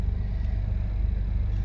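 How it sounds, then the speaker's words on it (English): A van, a mobile beach shop, drives along with a steady low engine rumble and road noise heard from inside, continuous and even throughout. "my wife's driving the van."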